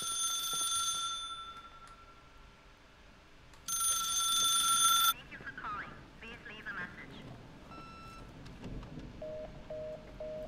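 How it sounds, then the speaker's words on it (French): An electronic telephone rings in the empty halls of a hotel in The Suicide of Rachel Foster, a shrill repeating bell heard in two long bursts, with quieter game sounds and footsteps between and after. "C'est un téléphone."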